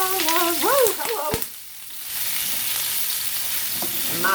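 A steak fries in a hot pan with a loud, steady broadband sizzle that rises after a brief lull. A voice talks briefly at the start and again at the end.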